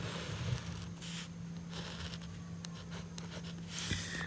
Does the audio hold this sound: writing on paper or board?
yes